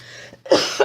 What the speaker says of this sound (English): I already feel a cough coming on.